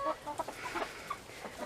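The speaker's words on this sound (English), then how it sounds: "if I can get in here without stepping on a chicken" Chickens cluck inside a chicken house, giving several soft, irregular clucks and short calls close by in a small enclosed space.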